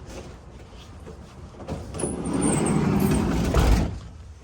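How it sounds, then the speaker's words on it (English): The sliding side door of a 2015 Winnebago Travato 59G camper van rolls along its track and thuds shut, a rising rumbling slide ending in a solid close nearby. "I'm gonna close this door."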